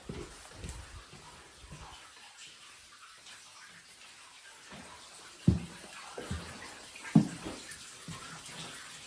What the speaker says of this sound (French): Alors, il y a une fontaine. C'est la fameuse fontaine d'eau.